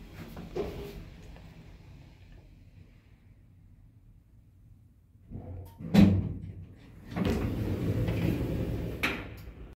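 Automatic OTIS elevator doors in a renovated traction passenger elevator rumble and thud as they slide open and closed, with a clunk mid-way and a steady mechanical hum, nearby and moderately loud.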